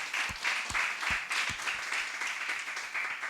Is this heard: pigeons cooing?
no